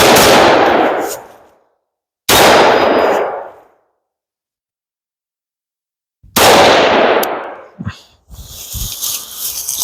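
Shots from a single shooter's firearm at an outdoor range, each a sharp blast with a long decaying tail, three loud reports spaced a few seconds apart, followed by faint light metallic clinks like ejected brass landing nearby.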